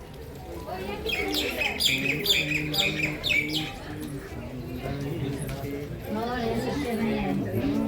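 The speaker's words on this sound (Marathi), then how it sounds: "पक्ष्यांचा आवाज आहे" Birds chirp in quick bright bursts early on, with people talking nearby and outdoor ambience continuing underneath.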